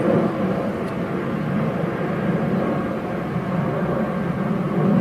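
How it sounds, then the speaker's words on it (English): An airplane passes overhead outdoors, a steady broad roar that holds level and loud for the whole stretch with no other sounds standing out. "Do you want me to hold with the overhead plane?"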